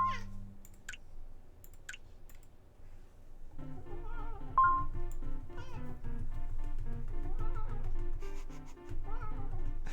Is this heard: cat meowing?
yes